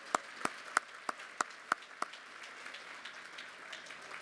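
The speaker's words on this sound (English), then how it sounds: "I just want to give a shout out to you and a round of applause for just incredible partnership" Community partners at the Carter Work Project site are applauded by a morning gathering: a handful of sharp, evenly spaced claps ring out close, then fade into faint scattered clapping.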